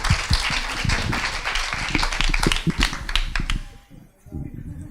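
Small audience at a storytelling night claps as a speaker is called up, a brisk burst of scattered hands with voices mixed in, thinning out and fading near the end.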